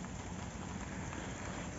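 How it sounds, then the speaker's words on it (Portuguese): Rain falls steadily on and around a newly built pigsty roof, a dense, even hiss of drops with no talk. "Dá pra ter uma noção aqui de onde é que respinga a chuva, mais ou menos."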